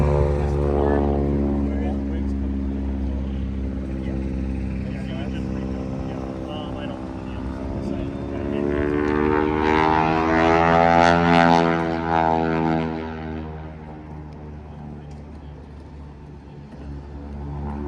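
A propeller aircraft billed as a flying taxi drones steadily at an airshow, its engine tone rising and swelling in the middle as it passes closer, then easing off, with a constant low rumble throughout.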